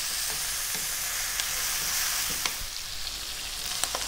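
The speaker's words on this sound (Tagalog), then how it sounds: "ginisa ko yung ating pork belly ng mga 5 minutes" Pork belly fries in its own rendered fat while browning, for a Filipino pork broccoli oyster sauce dish, giving a loud unbroken sizzle with occasional sharp spatula taps and stirring knocks.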